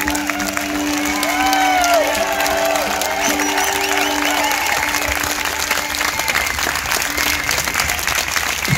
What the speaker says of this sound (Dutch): Applaus ook voor Johnny aan de gitaar